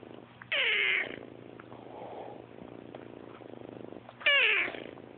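A kitten meows in two loud bursts, each a rising then falling cry, with soft purring in between, heard close up against quiet room background.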